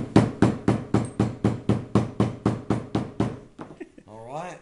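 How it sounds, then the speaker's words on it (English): A small hammer taps leather pieces stuck together with contact adhesive in about a dozen sharp, evenly spaced knocks, after which a person starts talking. "now what I normally do, I've got my little magic hammer"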